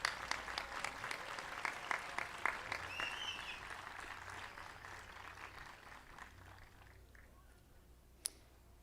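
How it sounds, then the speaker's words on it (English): Applause from an audience at an elementary school kindergarten graduation, a steady moderate crowd clapping that fades gradually over several seconds, with a single sharp click near the end. "A round of applause for Mrs."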